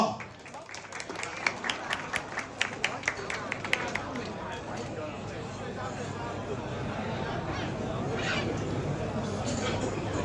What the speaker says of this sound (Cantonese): 俾啲掌聲啊石哥